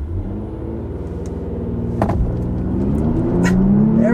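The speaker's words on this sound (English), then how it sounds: "we're gonna do another acceleration. I'm gonna do it from a stop and see if I can do a little bit of a brake boost here." 2022 Genesis G80 Sport launched from a stop after brake boosting: a steady engine rumble heard from inside the cabin, rising in pitch and loudness as the car accelerates, with a brief shift partway through.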